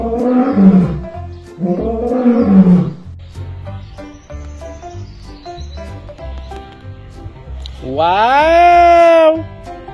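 A lion roars loudly in repeated drawn-out bursts, with a long rising-and-falling roar near the end, under a steady low engine-like hum.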